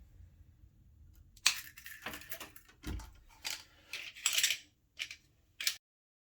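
Wire for a Tortoise switch machine on an HO scale model railroad layout is snipped, giving a series of sharp, close metallic clicks and crunches with brief quiet gaps between them.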